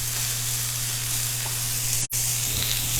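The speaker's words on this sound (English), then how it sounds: "throw the onion in. And caramelize the onion." Chopped onion sizzling in a hot pan as it begins to caramelize, a steady close frying hiss with a low hum underneath and a brief dropout near the end, no voices.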